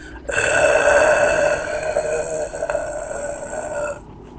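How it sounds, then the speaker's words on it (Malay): A drawn-out, loud burp-like sound effect standing in for a corpse belching in a horror story, one long rasping croak lasting nearly four seconds, close and alone. "mayat tu bangun dengan matanya terbuka dan mengeluarkan bunyi dari mulutnya seperti sendawa"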